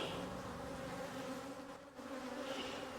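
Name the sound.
honeybees around beehives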